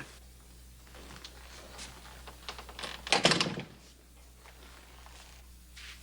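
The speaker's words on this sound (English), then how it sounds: "Close the door." A door is shut indoors in the western TV series Bonanza, making a single solid thunk midway through, set against quiet room tone and a few faint small knocks.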